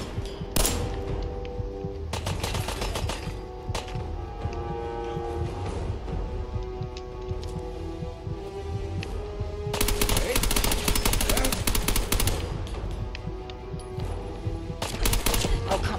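Rapid bursts of gunfire in Fallout 4, repeated volleys of shots over a sustained droning tone in the game soundtrack, loud and continuous with brief pauses between bursts.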